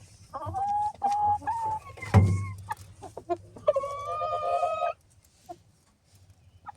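Chickens and roosters of a home-raised flock cluck and call in several bursts close by, then fall quiet toward the end.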